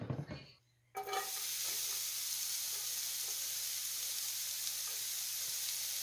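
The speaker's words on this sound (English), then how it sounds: "So you want to cook up your onions until they are nice and caramelized" Onions fry in oil in a pot, giving a steady, close, even sizzle that starts abruptly after a brief near-silent moment and then holds without a break.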